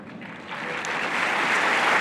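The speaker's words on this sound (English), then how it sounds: "please applaud for the decision David Splane and his bodies made" Audience applause at a Jehovah's Witnesses annual meeting, a dense steady patter of many hands clapping that swells slightly louder over two seconds, with no voices over it.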